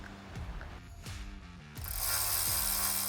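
A ratchet tightening the rotor retaining screw on a C8 Corvette Z06, several quick clicking ratchet strokes in short bursts, close and distinct, with a louder hissy noise building at the end.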